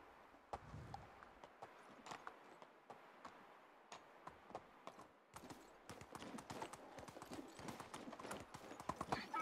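Donkey hooves in Medieval Dynasty clip-clop in a steady walking rhythm of quiet, crisp knocks that grow denser and slightly louder toward the end, with no talking.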